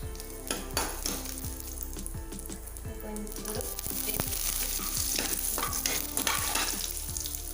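Crushed garlic fries in a pan, a loud close crackling sizzle with repeated stirring and scraping strokes of a utensil against the metal, alone without voices.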